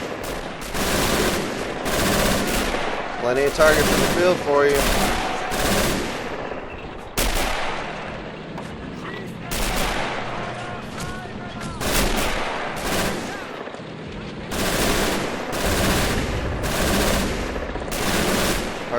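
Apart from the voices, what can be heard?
MG42 machine gun fire in Men of War: AS2 video game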